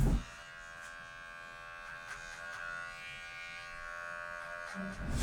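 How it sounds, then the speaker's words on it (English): A Wahl cordless Magic Clip hair clipper buzzes steadily at close range during a barber's haircut, one continuous electric hum with slight load changes as it moves through hair, and nobody talks. "So now I'm gonna take my cordless magic clip."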